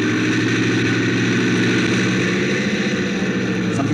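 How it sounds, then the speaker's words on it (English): Aircraft engines howling at the starting line of a runway in a 1947 film scene, a loud, steady droning roar that holds without a break. "And the 16th stood at the starting line, its engines howling."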